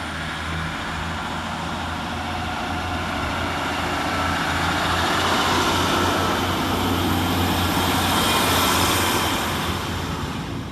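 Class 150 diesel multiple unit 15252 pulling out of Cardiff Queen Street station, its engine a loud, steady rumble and roar that holds and builds gradually throughout with no voices.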